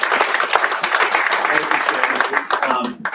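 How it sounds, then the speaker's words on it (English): Audience applause for three panel hosts at a live event, a dense steady patter of clapping filling the room and fading slightly near the end. "let's have a great round of applause for Bruce"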